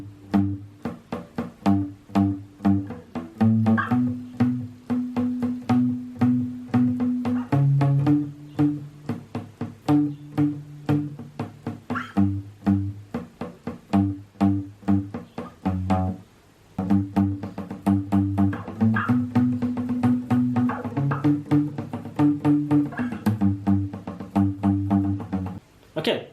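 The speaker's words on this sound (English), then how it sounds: "So I'll play that whole thing through, the entire first riff for the verse, really slowly, and then I'll play it at about full tempo." Guitar plays the first verse riff of a song, slow picked notes in a steady repeating pattern with a brief break before the phrase resumes, close and unaccompanied.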